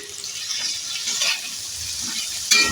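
Onion, chillies and potato sizzle in a pan while being stirred, a steady close frying hiss with soft scraping movements and a brief louder burst near the end; no voices.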